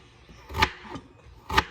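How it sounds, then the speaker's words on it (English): A knife chops fresh ginger into big pieces for tea, giving two sharp thuds on a cutting board with a softer knock between them, close and fairly quiet, no speech. "I'm just chopping it because I just want to make a nice ginger tea"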